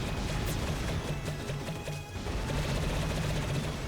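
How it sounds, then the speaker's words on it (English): Rapid crackling explosions from bombs in Shantae and the Seven Sirens, a dense loud barrage of bursts running almost continuously with a brief dip midway, over steady game music. "Okay, time for the bombs again."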